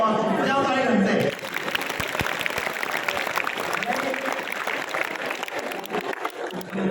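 Audience of students at a spiritual talk clapping, a broad, fairly steady wash of many hands at moderate loudness, with a voice speaking over it at the start and scattered sharper claps throughout.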